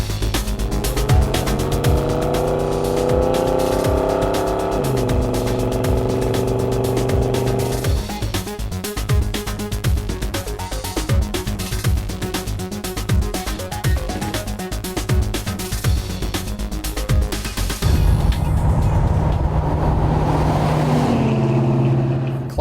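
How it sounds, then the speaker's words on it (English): A Ford Ranchero's engine pulls under heavy throttle while climbing hills, pinging slightly, as a loud continuous close drone that shifts in pitch as the load changes, with no talking. "Climbing the hills back here, it needs enough throttle that it's actually pinging a little."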